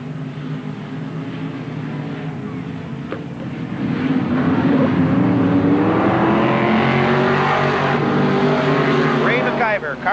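Modified race cars in a 1988 qualifying heat at Merrittville Speedway roar past in single file, engines building to a loud, sustained drone midway, while an announcer talks over the action.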